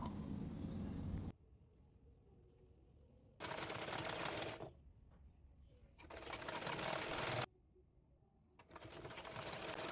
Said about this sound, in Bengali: এরপর মুড়িয়ে চিকন করে পাইপিং সেলাই করে নেব